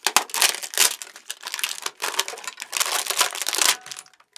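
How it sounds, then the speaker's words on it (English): Crinkling plastic wrap is torn and crumpled off a small Brazilian tamborim hand drum, a busy run of close crackles and rustles lasting about four seconds before fading out, with no talking. "So it comes in plastic. You gotta open this up."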